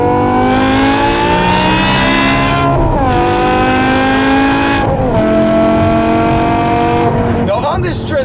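A 2008 BMW M5 E60 with its V10 and a muffler delete revs hard and loud, climbing through gears with sharp pitch drops at each shift, a continuous raw exhaust howl close by, with a voice talking over it.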